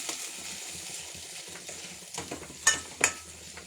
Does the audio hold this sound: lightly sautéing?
yes